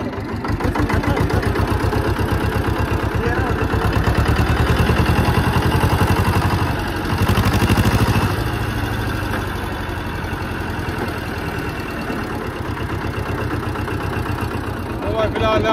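A new tractor engine idles steadily and loudly nearby with a throbbing mechanical chug and some clatter, while people talk over it throughout.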